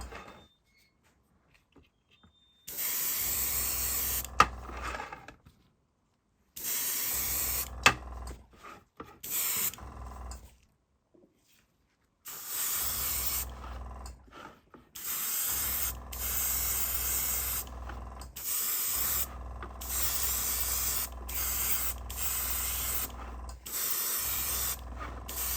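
Aerosol spray paint applied as a light dusting coat to Necromunda Cargo 8 Ridgehauler terrain, heard as a series of loud hissing bursts of a few seconds each, separated by short silent pauses.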